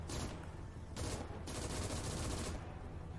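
Bursts of tank machine-gun fire in the video game Gates of Hell: Ostfront rattle out in rapid, dense volleys, loud and close, with brief pauses between strings of shots and no talking.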